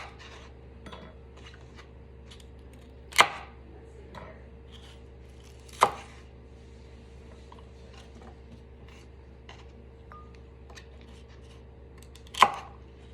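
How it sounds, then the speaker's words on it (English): A knife chops vegetables on a cutting board in a kitchen, with light steady cutting taps throughout and three sharp, loud chops spaced a few seconds apart, all close up with no talking. "Put that in the garbage bowl and just continue cutting"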